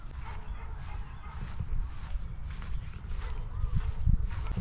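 Dogs bark repeatedly in the distance over loud, rumbling outdoor noise, the barks faint and recurring.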